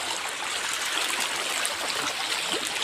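Water rushes and gurgles continuously, a steady broad flow close by with no voices.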